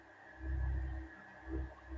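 A blue whale calls in long, low, moaning swells, two drawn-out groans rising and falling over faint underwater hiss.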